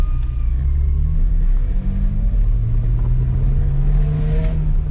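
A BMW E46 fitted with a swapped M54B25 2.5-litre straight-six accelerates on the road, its engine note a loud, deep rising drone heard from inside the car, steady and unbroken without talk.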